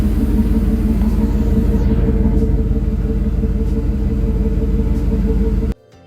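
A deep, steady exhaust rumble from an idling 1988 Chevy K1500 pickup with Flowmaster mufflers, loud and close, continuing without pause before cutting off abruptly near the end.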